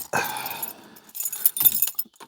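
Car keys jangle as they are pulled from the ignition of a Citroën 2CV: a quiet metallic jingle, then a few lighter clinks and rattles close by.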